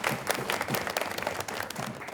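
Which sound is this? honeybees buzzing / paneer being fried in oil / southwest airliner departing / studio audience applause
studio audience applause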